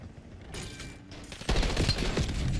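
Bursts of automatic gunfire from the Peacekeeper weapon in the Black Ops 7 multiplayer beta, starting fairly quiet and then turning into a louder, denser rapid stream of shots for the final second.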